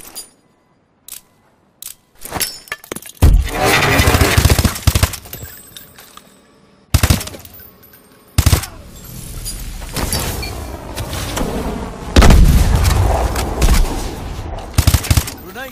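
Grenade training in a video game: sharp game-weapon bursts and rumbling explosions come in loud waves between short silent gaps, with clicks and mechanical clatter in between.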